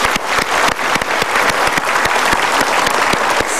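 A crowd gives a hearty round of applause, dense and loud continuous clapping with distinct individual claps standing out throughout.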